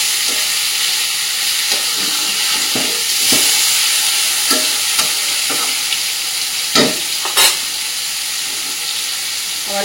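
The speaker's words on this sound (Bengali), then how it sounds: "মাছটা ওপিঠ ভাজা হয়ে গেছে, এবার এপিঠটা উল্টে দেবো" Fish frying in a pan on a gas stove, a loud, steady sizzle and hiss running throughout, broken by occasional sharper crackles and spatters.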